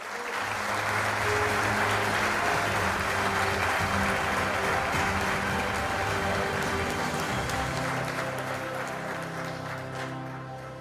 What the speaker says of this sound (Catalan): un fort aplaudiment per ella també